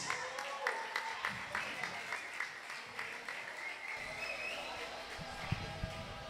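Audience applause welcoming a singer on stage at a live show, a steady crowd clapping for several seconds with scattered louder claps and faint chatter.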